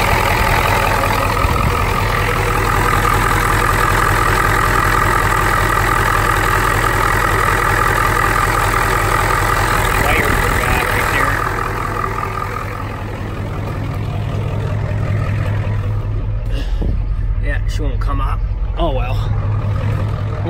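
A 1993 Ford F-250 with a 7.3L IDI diesel engine idles in a loud, steady, low rumble that runs unbroken throughout, with some faint knocks and shifts near the end.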